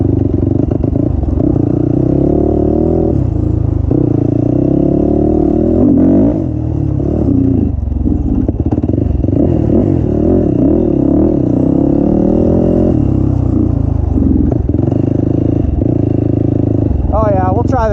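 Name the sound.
Yamaha YFZ450 ATV engine running and revving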